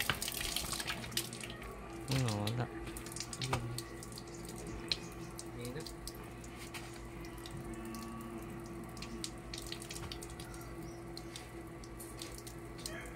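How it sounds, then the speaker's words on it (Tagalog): Water runs steadily from an outdoor garden faucet with a faint dripping texture, continuous at moderate volume while people talk briefly nearby. "Buksan mo yung gripo sa labas."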